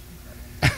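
A single sharp cough, close and loud, breaks a quiet background near the end.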